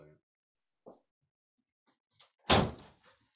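An indoor door swings shut with a single loud, close thud, preceded by a few faint soft knocks and shuffles in an otherwise quiet room.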